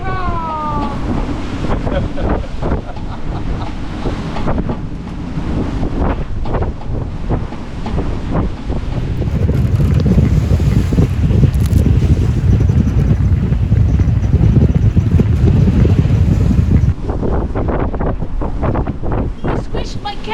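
Sailboat underway in strong wind and building swell, waves rushing and splashing against the hull with heavy wind buffeting the microphone, a louder surging stretch in the middle, steady and close throughout.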